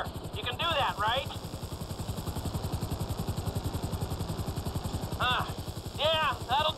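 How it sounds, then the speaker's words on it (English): A helicopter hovering in the video game GTA 5 gives a steady, fast rotor chop throughout, moderately loud, with brief high electronic chirps near the start and end. "I need you to hold the chopper above it while I take a look."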